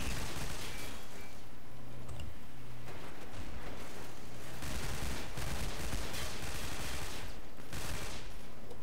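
Dense, sustained gunfire in a Tactical Intervention shootout fills the whole stretch, heavy overlapping shots and bursts rolling on continuously at loud, close level with no clear gaps.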